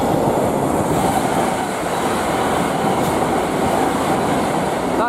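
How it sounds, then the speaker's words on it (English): Train passing through West Ealing station on the Great Western Main Line, a loud, steady rumble of wheels on rails close by, continuous for several seconds with faint clickety-clack. "Not quite our last train of the day."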